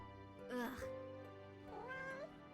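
A cat meowing in a Final Fantasy VII Project Kalm animation, two drawn-out meows about a second apart, fairly faint, with a voice talking over them.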